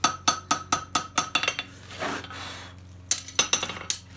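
Farrier's hammer tapping a concave front horseshoe on an anvil: a quick series of bright metallic strikes, a short pause filled by a softer scraping rustle, then another run of ringing taps, close and without talk.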